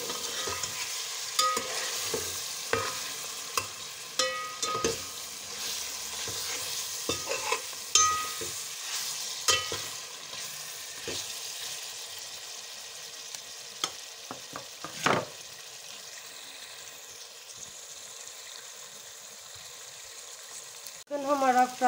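Chicken pieces frying in a pan while being stirred, a steady sizzle with repeated scraping and clinking of the spoon against the pan, fairly close and moderately loud.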